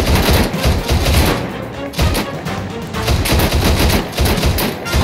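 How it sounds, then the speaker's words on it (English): Dense Arma 3 gunfire, with rapid, overlapping shots and bursts during a squad's covering fire, loud and near, sustained for the whole stretch without pause. "Gents, lay down covering fire"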